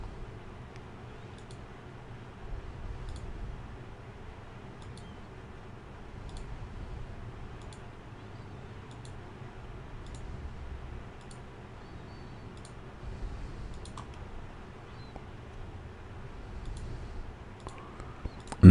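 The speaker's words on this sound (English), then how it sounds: "you can click once on each picture that you would like to include" Computer mouse clicks selecting pictures one at a time, sharp regular ticks roughly every half second over a steady low background hum, with no talking.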